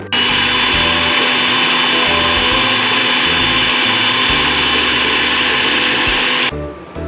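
A blender whirs loudly and steadily for about six and a half seconds while blending mango milkshake with added milk, its motor drone wavering slightly before it cuts off abruptly near the end.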